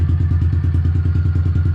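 A Honda CRF110 dirt bike fitted with a CJR S1 camshaft and a larger injector, its engine running just after starting with a loud, close, steady fast-pulsing idle and no talking.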